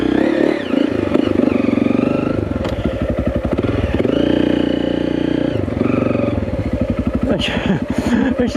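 A motorcycle engine rumbles loudly and close, with revs rising and falling as the bike is slowly turned around on a street among houses, and a voice talks briefly over it.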